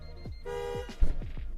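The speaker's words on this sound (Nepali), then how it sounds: "डुअल टोन हर्न दिइएको छ सिट्रोन C5 एयरक्रसमा।" A dual-tone horn on a Citroën C5 Aircross sounds in short honks, close and fairly loud, with a brief burst of clatter in the middle.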